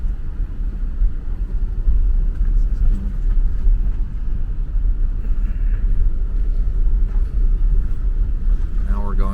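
A car passes on a narrow one-lane mountain road in Alaska, a loud continuous engine and tire rumble that stays close and steady throughout, with no talking.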